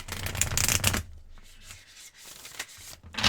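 Close, crisp riffling of a thick tarot card deck, twice a standard deck's thickness, in a steady burst for about a second, then quieter shuffling and handling in short chunks.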